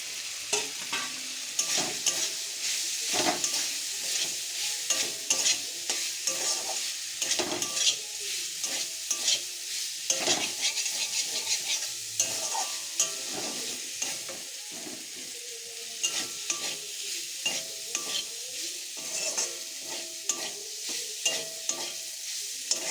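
Fried soya chunks stirred and sautéed in hot oil in a pan, with a steady sizzle and repeated scraping stir strokes running throughout, close and alone without talk.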